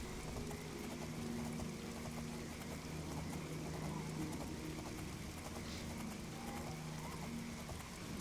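Horse hooves clip-clop steadily in The Elder Scrolls IV: Oblivion, a soft repeating trot set in a dense, constant bed of ambient game noise at low volume.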